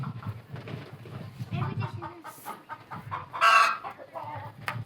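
Chickens cluck and squawk close by in a busy flock, with a sharper call rising above the rest; a person talks underneath.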